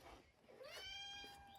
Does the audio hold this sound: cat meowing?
yes